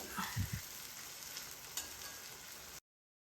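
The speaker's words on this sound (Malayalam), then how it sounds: "സവാള നന്നായി ഇളക്കി കൊടുക്കുക. കരിയാതെ നല്ല ബ്രൗൺ നിറമാകുന്നത് വരെ പൊരിച്ചെടുക്കുക." Sliced onions frying in oil for kabsa biryani, a steady broadband sizzle with a few low stirring knocks near the start, close and moderately loud, with no speech, ending abruptly.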